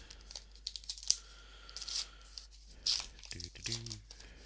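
A Star Wars trading card booster pack is torn open, heard as quiet crinkly tearing and crunching of foil wrapper in a few short bursts. A voice speaks briefly near the end.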